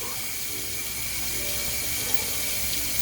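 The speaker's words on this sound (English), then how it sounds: "I'm gonna wash my hands again." Tap water runs steadily into a kitchen sink while hands are washed under it, a constant close splashing hiss with faint clinks in the background.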